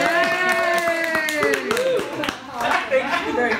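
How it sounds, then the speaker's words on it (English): Audience members clap after a personal speech at a public-speaking club meeting, with sharp separate hand claps over voices and laughter. "You can clap."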